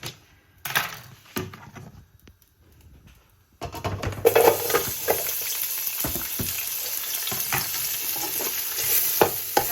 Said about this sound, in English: Deep-fry the onion till its color changes to brown, reddish brown, not black.